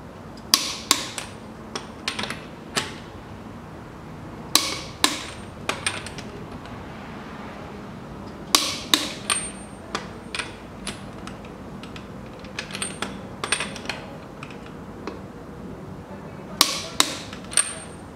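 Wheel nuts are tightened on a 2004 Toyota Harrier after front ball joint replacement, heard as sharp metallic clicks and ratcheting taps in irregular bursts over a quiet background.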